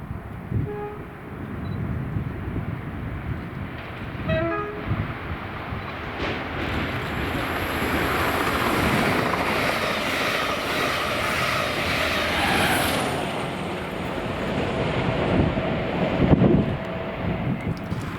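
An InterCity push-pull railtour train passes Greenhill Upper Junction, its engine roar and wheel rumble building to a broad, loud sustained wash before easing off, heard from the lineside.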